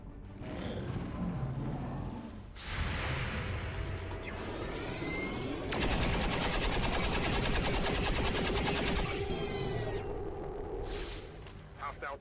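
Overwatch gunfire in XCOM 2, several loud bursts of shots and mechanical whooshes in a game battle, with voices talking over parts of it.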